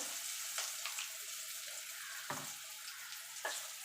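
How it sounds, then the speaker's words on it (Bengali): Water poured into a pan of frying spice masala with turmeric and Kashmiri chilli powder, a steady hiss with a few louder sizzling bursts as it hits the hot oil, close and without talk. "এবার দিয়ে দেবো জল যাতে মশলাটা পুড়ে না যায়"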